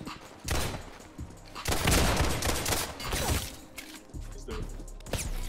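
Gunfire in the online game Criminality: loud bursts of repeated shots and heavy impacts, several volleys overlapping in a dense, continuous barrage with short gaps between them.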